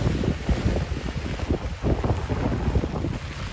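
Gusty wind by the Brisbane River at Bulimba, strong enough to tug at an umbrella, rumbles and buffets the microphone in uneven surges throughout.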